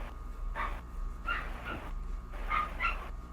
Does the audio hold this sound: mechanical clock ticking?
no